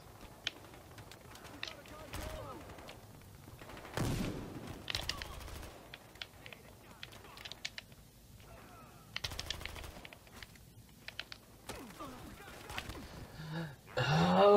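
Bursts of MP5K submachine gun fire in the shooter game Battlefield Hardline, short rapid volleys recurring among quieter stretches, mixed with other game sounds.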